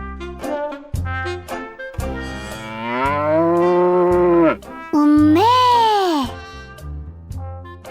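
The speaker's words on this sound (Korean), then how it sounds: "송아지는 엄마 찾아 음메 음메 엄마 소는 아기 찾아 음메 음메" Cattle, a calf and its mother cow, moo repeatedly in long drawn-out calls, loud and close, several moos overlapping one after another with no speech.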